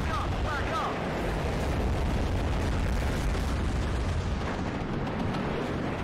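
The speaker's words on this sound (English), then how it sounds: "MI-8 rocket strike took out our chally too." MI-8 helicopter rockets strike in a Cold War real-time strategy game, the blasts rolling into one another in a loud, continuous rumble of explosions, with a voice partly mixed in.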